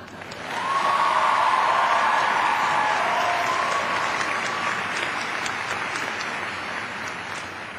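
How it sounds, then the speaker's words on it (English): A commencement crowd breaks into sustained applause, a dense wash of many hands clapping that rises quickly, holds loud for several seconds, then slowly thins, with no talking over it. "by a show of applause, who would encourage Mr. DeKay to do the same in the next season?"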